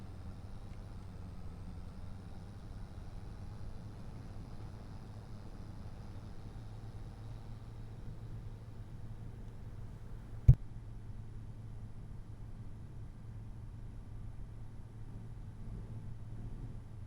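Tractor engine in Farming Simulator 25 running low on fuel, a steady low drone that carries on evenly throughout with one sharp click partway through, no voices.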